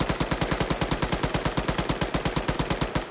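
Sustained automatic gunfire in the ArmA 3 military game, a rapid, even stream of loud close shots that runs without pause for the whole stretch.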